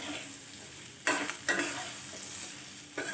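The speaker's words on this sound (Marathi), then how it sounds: "ते सुद्धा छान तेलामध्ये परते. छान आता परतून घेऊया." Stuffed okra and leftover masala sauté in oil, producing a soft, low sizzle with a few brief scraping stirs of a spatula at intervals, fairly faint and close.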